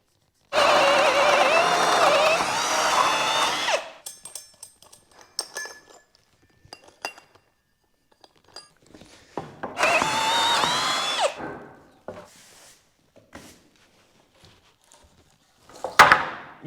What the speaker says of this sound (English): we need to mark out for this and drill those out